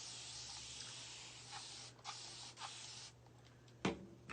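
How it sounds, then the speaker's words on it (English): A spray bottle spritzes water onto a craft piece in several short hissing bursts, quiet and close, the last squirt sharper, with no talk. "I'm gonna just spray it with water"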